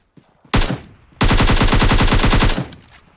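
Automatic rifle fire in the mobile battle-royale game PUBG Mobile: a short close burst, a pause, then a longer rapid stream of loud shots that stops abruptly, with no talking.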